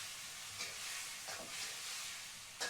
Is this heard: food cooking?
yes